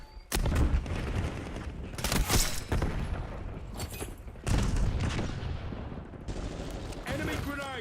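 Semtex grenade explosion in a video game firefight, with heavy booms and bursts of gunfire through a busy, dense mix as a voice calls out.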